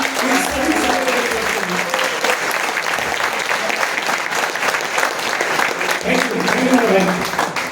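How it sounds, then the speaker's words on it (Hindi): Loud, enthusiastic applause from an audience at a business meeting, a dense continuous roar of clapping lasting the whole stretch, with some voices mixed in underneath. "इस उम्मीद पर एक बार जोरदार तालियां।"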